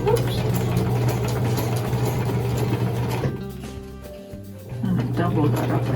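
A sewing machine stitches the bottom and sides of a tote bag made from a Japanese kimono obi, running loud and steady with a mechanical whir, briefly slowing and stopping before starting up again.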